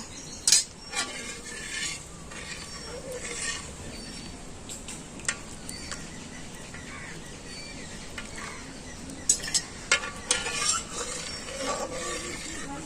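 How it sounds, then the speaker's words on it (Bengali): A spoon stirs and clinks against a pot of milk as lemon juice is added to curdle it for rosogolla. The scraping and taps come at an irregular pace, close and fairly quiet, with sharper clinks at a few moments. "এটা আমি অল্প অল্প করে দেব আর নাড়তে থাকবো"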